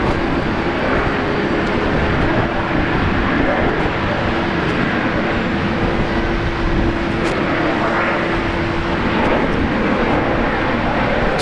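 A Virgin Australia jet, flight 309 from Melbourne, arrives at Brisbane Airport with a steady, loud, broadband engine roar that holds for the whole stretch, heard outdoors from a distance, with people talking over it.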